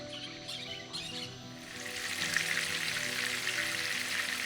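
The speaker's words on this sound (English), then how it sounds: "You hear the sizzle?" Fresh fish frying in a pan at night during a power outage, a loud, steady sizzle that swells after a quieter start, with faint bird chirps behind it.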